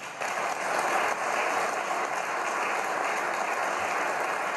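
A crowd at Rishi Sunak's Conservative manifesto launch applauds steadily, a dense, even wash of clapping from a large audience that holds at one level throughout without dying away.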